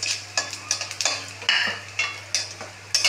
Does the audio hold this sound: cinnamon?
yes